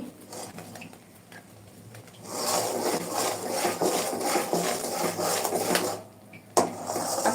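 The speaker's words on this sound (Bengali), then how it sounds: "মশলাটা ভালো করে নেড়ে দিব" Dried chili, black salt and other spices are stirred into a homemade garlic pickle, giving a soft scraping and rubbing that grows louder and continuous after a quiet start, then pauses briefly near the end.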